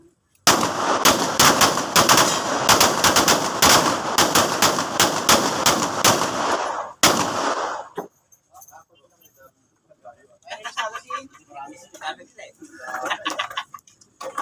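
Rapid volleys of gunshots at a firing range crack close and loud for several seconds, then stop; scattered clicks and faint voices follow in the quieter stretch.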